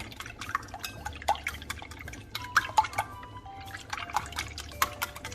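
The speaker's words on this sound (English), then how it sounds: "So I'm going to add some milk to that." Milk poured into a dipping liquid for chicken fried steak and mixed in, giving soft scattered drips and light clinks of stirring at close range, with no talk.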